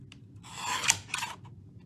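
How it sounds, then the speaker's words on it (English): Scissors cut through designer series paper in a close, crisp snipping and rasping burst that swells, catches briefly, then trails off into quiet. "I'm going to cut it down to where I need to be."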